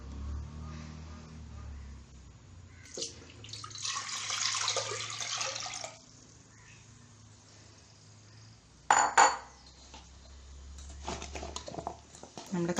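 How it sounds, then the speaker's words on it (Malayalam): Water poured into a cooking pot on the stove for boiling tapioca comes in two bursts, a longer splashing pour followed later by a short sharp one, over a low background hum with quiet stretches between. "ഇതിലേക്ക് ആവശ്യത്തിന് വെള്ളം ചേർത്ത് കൊടുക്കാം"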